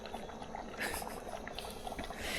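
Chicken curry boils in a pot on a wood-fired stove, a steady close bubbling and gurgling simmer with soft popping bursts throughout.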